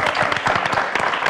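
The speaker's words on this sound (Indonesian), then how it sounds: "Boleh dikasih tepuk tangan ya." A studio audience at an Indonesian TV health talk show applauds, with steady, dense clapping that fills the room and holds at an even level throughout.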